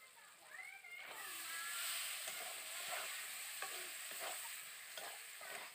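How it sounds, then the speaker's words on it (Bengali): Cut potatoes stirred and fried in a spice masala for an egg and potato curry, a steady close sizzle with repeated scraping stirs of a spatula in the pan throughout. "আলুটাকে মশলার সঙ্গে ভালো করে কষিয়ে নেব।"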